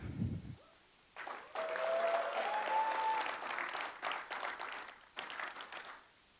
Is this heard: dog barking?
no